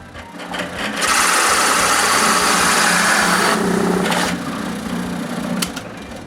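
An electric drill bores a hole for a 1/4 inch router bit in a woodworking project, a loud steady whine running for several seconds before easing off and ending, with no talking.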